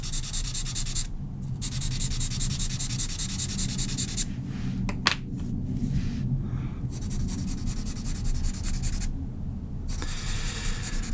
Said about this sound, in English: let's use the stump that I only use for white chalk to blend it